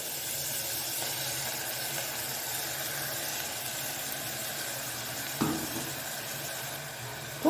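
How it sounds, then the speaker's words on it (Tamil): Sliced onions frying in a pan with ginger garlic paste just added for a black chickpea kulambu, a steady close sizzle and hiss throughout with a brief scrape partway and a sharper knock at the end, no voices. "இஞ்சி பூண்டு பேஸ்ட் சேர்த்து நல்லா கிண்டி விடுங்க"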